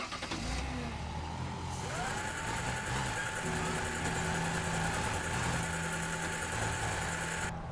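A car engine in the Teardown video game revs and drones steadily throughout, its pitch rising and settling at one point, with a constant synthetic hum layered over it.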